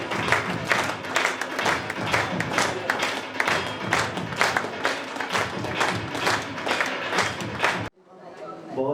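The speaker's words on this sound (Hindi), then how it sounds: "आपने तालियों के साथ हम सबका साथ भी दिया, स्वागत भी किया।" Audience at an award ceremony in Bahadurgarh honouring UPSC toppers claps loudly and steadily for about eight seconds, dense and close, then cuts off abruptly into a quieter room.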